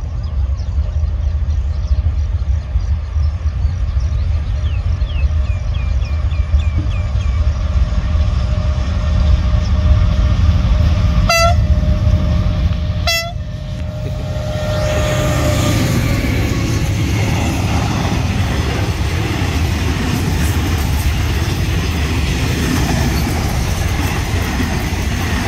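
A CSR locomotive hauls passenger train 555 past Ban Nong Waeng Rai, with a steady loud rumble of passing cars, two sharp horn blasts midway, and continued rolling noise afterward.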